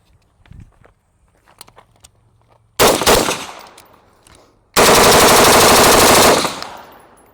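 Atrius Super Selektor rifle firing PMC Bronze ammunition outdoors, two loud rapid bursts: a short burst followed by a longer sustained string of fast shots, close and overpowering, after a quiet stretch of faint handling noise.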